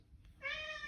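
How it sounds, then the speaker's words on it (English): A pet cat named Bonzo gives a single drawn-out meow, fairly close and clear, rising out of a quiet room with a faint background hum. "So just excuse the cat."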